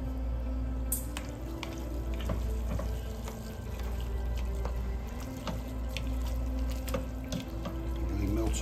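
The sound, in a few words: meat simmering in a pan with ramen sauce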